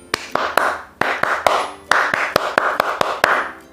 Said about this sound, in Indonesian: Ayo coba gimana tepukan pramuka?